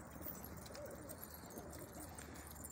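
Domestic pigeons coo faintly and far off over a steady background hiss, with no one speaking.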